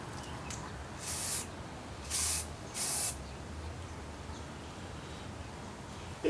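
Spray paint misted onto a plastic mask in three short hissing bursts of about half a second each, close and fairly loud over a quiet room background.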